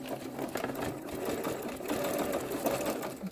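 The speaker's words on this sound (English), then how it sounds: "after stitching from both sides with a straight stitch" A sewing machine runs a straight stitch along a pair of pants being altered, a steady close mechanical whirr with fine rapid ticking, going on unbroken and without any talk.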